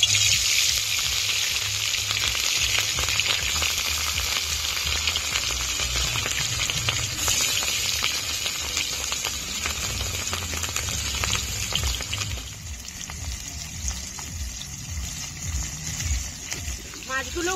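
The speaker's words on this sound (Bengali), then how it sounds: "তেল গরম হয়ে গেছে, মাছগুলো দিয়ে দেব।" Marinated katla fish fries in hot mustard oil in a kadai, a steady, dense crackling sizzle that continues throughout with a slight drop in intensity near the end, while someone talks over it.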